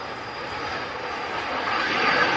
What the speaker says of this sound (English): BizJet just departed there.